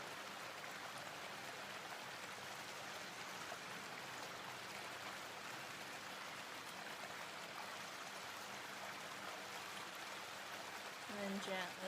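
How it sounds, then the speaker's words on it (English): Water flows continuously in an outdoor spot in Phnom Penh, Cambodia, a soft even rushing and trickling wash held at a faint, steady level, with a brief louder splash near the end. "if you can practice focusing on the sounds of the water."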